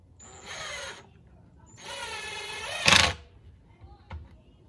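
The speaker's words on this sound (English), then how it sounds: "Screw them in." A power drill drives screws into a wooden cabinet being built in a Sprinter van, two short whirring bursts followed by a sharp clack and a faint knock, close and fairly quiet.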